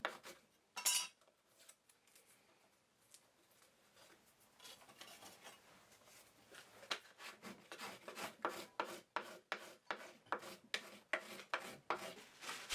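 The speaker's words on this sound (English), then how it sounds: "I can scrape off the design using a card scraper." Hand-held card scraper dragged across reclaimed hardwood to remove a design, starting with sparse faint scrapes and settling into a steady rhythm of close, crisp rasping strokes.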